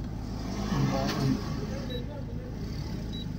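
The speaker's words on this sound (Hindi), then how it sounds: "गाड़ी चलती रहेगी" A car driving along a road on a trip, its steady engine and road rumble continuous and fairly loud throughout, with a brief swell near the start.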